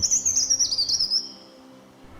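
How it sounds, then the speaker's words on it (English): A scaly-breasted cupwing, a shy winter-visiting skulker, gives a thin, very high-pitched call in a quick run of notes for about a second. The call then fades into near silence over a low background rumble. "we were greeted with an extreme rarity, the scaly-breasted cupwing"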